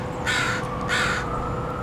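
Crows scavenging for scraps alongside seagulls give two loud, harsh caws in quick succession, each rasping call standing out over a steady outdoor background hum.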